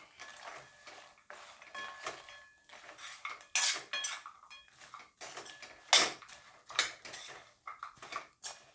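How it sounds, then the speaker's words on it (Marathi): Fried shankarpali, a sweet Diwali snack, being stirred through hot sugar syrup in a pan, with repeated close scraping and clinking of a utensil against metal and a few sharper knocks, no voices. "आता यामध्ये आपण जी तळून घेतलेली शंकरपाळी आहे ना ही घालून घ्यायची गरम पाकामध्ये आणि मिक्स करून घ्यायचे"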